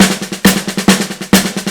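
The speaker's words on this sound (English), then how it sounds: "we're just going to have hi-hat on 2 and 4" A drum kit plays paradiddles with a hi-hat on beats 2 and 4 and no bass drum: a tight, even stream of sticking strokes with sharper accented hits recurring at a steady pulse, close and loud.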